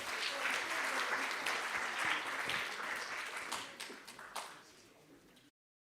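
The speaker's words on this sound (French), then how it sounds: "On peut les applaudir, c'est toujours agréable" Applause from a conference audience welcoming speakers onto the stage, moderately loud at first and then thinning out and fading before stopping abruptly.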